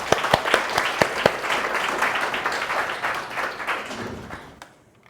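An audience bursts into warm applause to welcome two speakers to an art history talk. Sharp individual claps stand out at first, then blend into steady clapping that fades away near the end.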